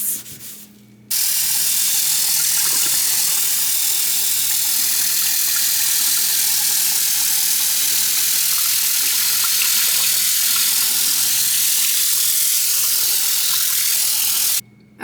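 Tap water runs steadily into a sink while a surface is rinsed after scrubbing with Pink Stuff cleaner and a sponge, a continuous broadband rush lasting about fourteen seconds, close and alone with no talk.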